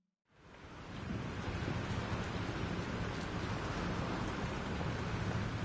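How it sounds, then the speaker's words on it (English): Heavy rain pours steadily as a storm sets in within the Life Is Strange game, a dense, even hiss that starts abruptly and holds loud throughout with no voices. "This storm is real."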